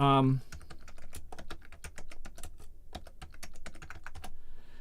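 Rapid, clacky computer keyboard typing close to the mic, a steady run of sharp key strikes with brief pauses, after a short tonal blip at the start and no speech.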